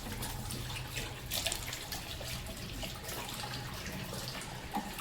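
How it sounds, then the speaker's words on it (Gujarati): Tap water running steadily into a sink while someone washes their face, a continuous close splashing flow. "આપણે મોડું ધોઈ લીધું"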